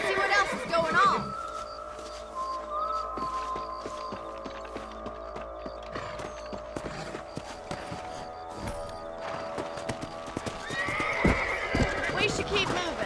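Horses whinny and clip-clop through the Red Dead Redemption video game, with hoofbeats steady beneath continuous ambient music and in-game voices talking.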